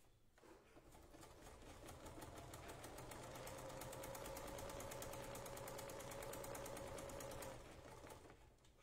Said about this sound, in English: I'm going to pick a decorative stitch here, and I'm going to sew